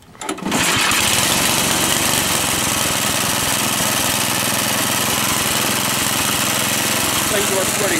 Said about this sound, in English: It's a 5 horsepower Tecumseh. Yeah, we're going to give it a pull, see how she runs.